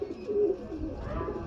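A pigeon held in the hand gives a soft, low coo, with a brief stronger swell near the start, then a quieter murmuring. It is close and gentle, and no one speaks over it.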